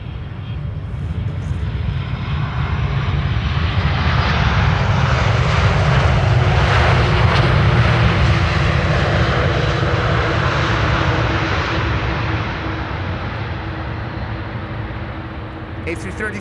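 A KLM Airbus A330-300 arrives at Amsterdam Schiphol, its engines a loud, broad roar that swells to a peak mid-pass and slowly fades.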